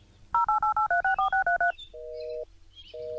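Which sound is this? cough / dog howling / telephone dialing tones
telephone dialing tones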